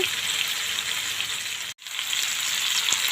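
Pumpkin leaf fritters made with chepa shutki dried fish fry on one side in hot oil, a close, loud, steady sizzling hiss that drops out for a split second midway before resuming.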